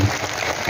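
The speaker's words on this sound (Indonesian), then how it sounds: "tepuk tangan, tepuk tangan." Brief burst of crowd applause at an Islamic religious gathering, dense clapping filling the short moment at steady loudness.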